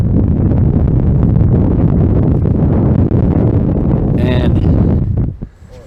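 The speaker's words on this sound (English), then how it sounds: "The wind's starting to pick up a little bit more" Loud, gusty wind roars across the microphone on a Colorado fourteener summit near Mount Belford and Mount Oxford, a continuous buffeting rush that drops away abruptly near the end.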